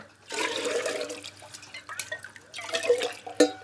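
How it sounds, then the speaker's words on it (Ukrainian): Tap water runs and splashes into a kettle being filled at home, a steady gurgling stream with small drips and clinks near the end. No one speaks. "Я набираю воду у чайник"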